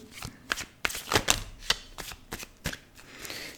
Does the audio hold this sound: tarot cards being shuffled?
yes